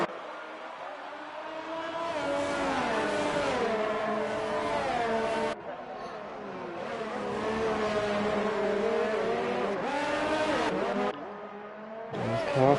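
F1 race cars at Monaco in a PS4 esports racing game, with a steady high-pitched engine whine that rises and falls through gear changes, continuous and fairly loud, with faint commentary underneath.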